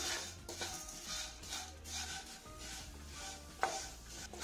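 Vermicelli roasts in ghee in a pan, with a spoon scraping and stirring in an uneven rhythm over a soft sizzle and an occasional sharper metallic tap.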